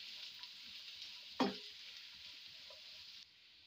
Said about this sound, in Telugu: సన్నగా తరుక్కున్న ఉల్లిపాయలు వేసుకుని ఫ్రై చేసుకోవాలి.